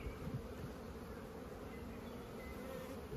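Honey bees buzz steadily and densely around an open hive while frames are being rearranged to boost a weak colony, a continuous close swarm drone that stays fairly quiet throughout.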